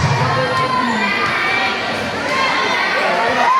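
A crowd at a championship basketball game in a town tournament cheers and shouts loudly and steadily, with children's high voices prominent and a commentator talking over the noise.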